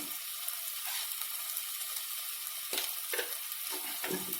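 Potato curry for aloo dum biryani sizzles steadily in a pan, a close, continuous hiss with a few stirring scrapes near the end and no talk.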